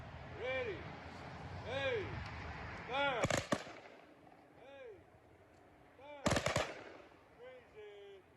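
An honor guard fires rifle volleys in salute at a ceremony honoring a Revolutionary War soldier: two sharp, loud volleys roughly three seconds apart, with shouted commands between them.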